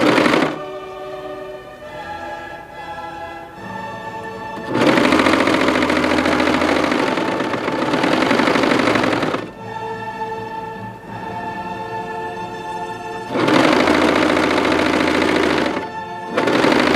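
A sewing machine stitches the seams of a dress bodice, right sides together, in alternating bursts: steady mechanical runs of a few seconds each, separated by quieter pauses, close and fairly loud with no talking.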